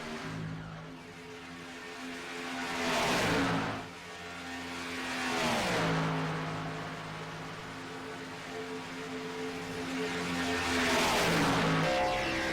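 Stock cars race around Talladega Superspeedway in a racing game, several engines droning steadily near and far, with repeated louder passes that sweep past in pitch every few seconds.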